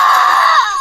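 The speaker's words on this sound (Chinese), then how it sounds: "发出一声凄厉的惨叫" A woman lets out a shrill scream of agony, one loud sustained cry lasting under a second before it breaks off.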